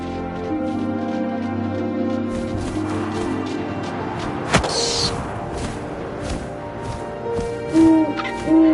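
Hooting from an owl in the video game What Remains of Edith Finch sounds amid layered ambient game sound, with a sharp thud midway and two short tonal calls near the end.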